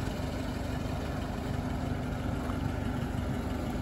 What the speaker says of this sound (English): So we're at an idle. We're at about 700 RPM.